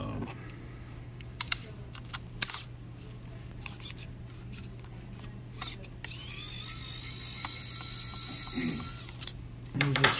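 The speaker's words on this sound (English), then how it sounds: "Let's remove this screw here." Small clicks, ticks and brief metallic scrapes come from a screwdriver as a screw is removed from a USB 3.0 to M.2 NGFF SSD enclosure adapter, quiet and close over faint steady background hum.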